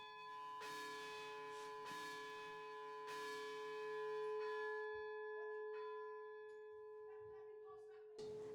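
A church bell at St Mary the Virgin, Rotherhithe rings before a morning service, several loud resonant strikes with long humming decay, spaced about a second apart, then fading to quiet before a final strike.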